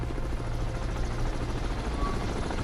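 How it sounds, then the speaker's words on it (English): A helicopter in the submarine game Cold Waters, a steady low rotor drone holding overhead throughout, loud and continuous with no voices. "that helicopter is right overhead"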